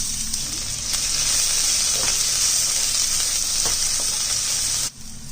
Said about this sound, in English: I'm going to go ahead and let these sweat in the oil until there's a slight golden brownness on the edges of the onion.